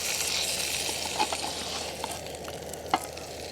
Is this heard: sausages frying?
yes